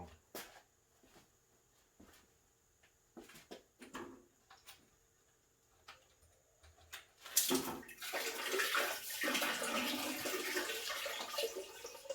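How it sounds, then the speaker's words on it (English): Water gushes and splashes steadily from a saltwater aquarium drain hose after a few quiet knocks and clicks, a close rushing flow that continues to the end. "I'm going to drain this drain hose first, and I'm probably going to make a mess"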